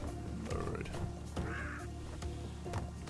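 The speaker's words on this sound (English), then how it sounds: "Giant fucking ugly birds." Giant birds in the Crash Bandicoot video game give harsh, crow-like caws, a few loud calls rising over steady game music and effects, close and clear.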